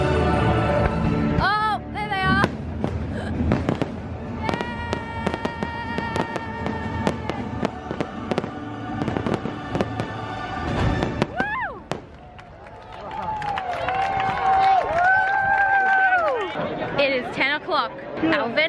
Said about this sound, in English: I think fireworks might go off.